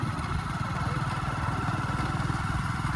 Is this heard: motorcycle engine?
yes